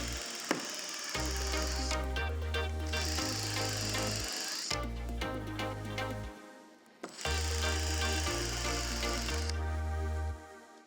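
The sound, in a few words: drill countersinking holes in a fiberglass boat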